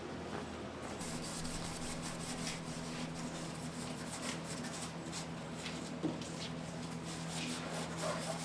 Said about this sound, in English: So we have to scuff the bottom where the rocker panels usually go, where the side skirts go.